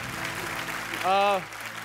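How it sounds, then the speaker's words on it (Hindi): Studio audience applause on a Hindi comedy talk show, a brief, loud burst of clapping lasting under half a second, set among talk and studio background. "सब तालियां बजाएंगे आपके लिए"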